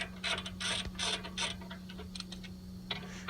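A ratchet works loose the bottom brake caliper bracket bolt on a 2014 Nissan Rogue, giving close bursts of rapid clicking in uneven strokes, then a pause and a few fainter clicks, with no voices.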